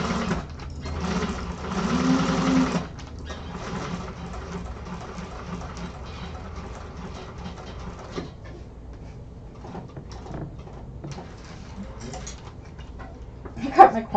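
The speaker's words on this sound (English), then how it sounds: "I'm just gonna baste straight across it" A sewing machine runs a brief burst of basting stitches straight across a bag pocket, followed by quieter handling and clicking sounds, while a person talks.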